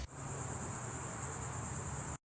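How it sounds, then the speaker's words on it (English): Cicadas buzz outdoors in a loud, steady, high-pitched drone that holds without a break, with a low hum underneath, then cuts off abruptly at the end. "those cicadas are going wild out there"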